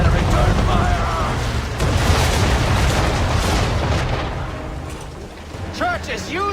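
Naval cannon fire during a ship ambush in Assassin's Creed III: heavy, rolling booms and blasts blend into a loud, sustained rumble, while shouted voices rise over the battle near the end.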